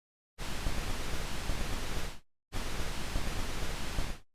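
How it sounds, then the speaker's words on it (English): Two bursts of steady broadband hiss from the noise source of a Cherry Audio Crumar Spirit synthesizer, each about two seconds long, separated by a short silence. "we can also use the noise source in the Y-shaper path"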